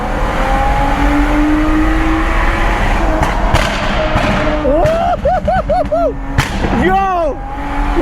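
A loud BMW M4 revs on a London street, its engine note rising and falling in repeated swells amid street noise and thumps, with voices nearby.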